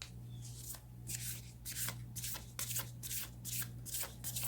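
Oracle deck of Moonology cards being shuffled by hand, a steady run of crisp riffling bursts repeating about every half second over a low constant hum, close and moderately quiet with no talking.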